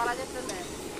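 Salted onions frying in a pan give a soft, steady sizzle, close and fairly quiet, heard beneath a person speaking.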